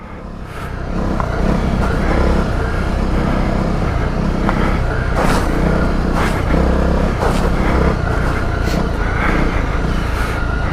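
A Honda CRF250 Rally motorcycle rides off-road through a muddy puddle, its engine a steady loud drone close by with splashy bursts of water throughout, rising in level during the first two seconds.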